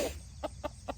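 Backyard hens cluck in three short, evenly spaced bursts close by as the flock comes over, a brief louder squawk opening the moment, with low outdoor rumble underneath and no talking.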